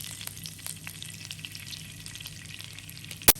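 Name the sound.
butter and sunflower oil sizzling in hot pan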